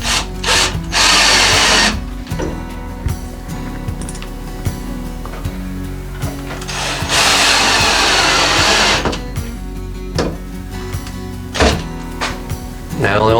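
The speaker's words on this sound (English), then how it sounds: "Then we can screw these in for the test fit." A handheld power drill drives screws into wooden pantry fittings, with two long loud whirring runs and short bursts between them, plus clunks of the wood being handled while someone talks over the work.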